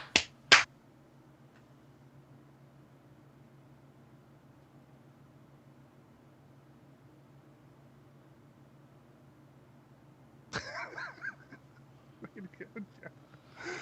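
A sharp hand clap for a recording sync check, followed by about ten seconds of near-silent room hum before people start talking again.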